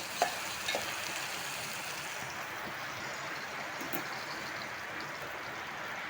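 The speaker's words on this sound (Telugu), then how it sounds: "ఒక 1 మినిట్ వేగితే వంకాయలు ఆయిల్లో ఉడికిపోతాయి." Brinjal pieces fry in hot oil for Telangana-style brinjal tomato pachadi, a steady even hiss of bubbling oil with a couple of faint clicks early on, close up and without voices.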